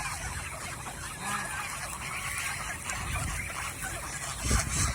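Geese on a goose farm honk and call in a steady, moderately loud clamor, with a louder burst near the end.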